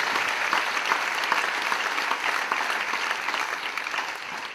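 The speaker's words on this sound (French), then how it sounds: "Je crois qu'on peut encore l'applaudir." An audience at a conference applauds steadily, a dense, even wash of clapping that holds for several seconds and then begins to taper.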